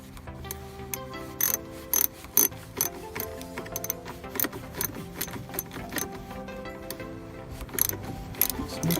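A ratchet tightens the bolt on the driver-side mirror of a 2005 Honda Odyssey Touring, giving quick, close clicking bursts in an irregular rhythm with small mechanical rattles between them.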